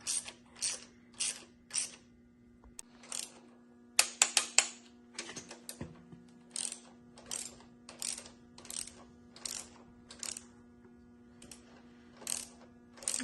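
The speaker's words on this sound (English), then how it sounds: "Snug them down with the ratchet and torque them down 3 steps." Hand ratchet snugging down bolts on a 1971 Chevrolet C10 gasser project, a series of quick bright clicking bursts in short rhythmic runs with brief pauses, close and fairly quiet.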